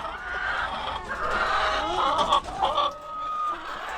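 Chickens clucking in a coop, with several close, soft clucks and short calls in an irregular rhythm, heard alone without talk.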